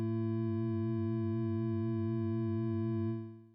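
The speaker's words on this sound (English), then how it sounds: "just have our low octave sine wave be oscillated by turning off the rest of the oscillators here" Low-octave sine wave oscillator from Ableton Operator synth with the other oscillators switched off, a steady deep tone with gentle regular vibrato wobble, sustained alone for about three seconds before fading.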